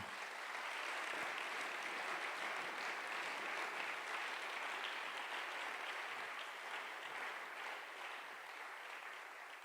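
A church congregation applauds in a steady, dense wash of many hands clapping, fairly distant and even throughout, no speech over it.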